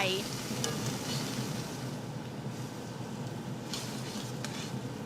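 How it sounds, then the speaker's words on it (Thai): Beef stroganoff sauce with beef stock and whipping cream bubbles in a pan, a steady soft sizzle and simmer with a couple of faint clinks, close and fairly quiet. "เติมน้ำซุปเนื้อเติมลงไปเยอะหน่อยค่ะเพราะว่าเราจะต้องเคี่ยวจนให้ซอสมันครีมมี่"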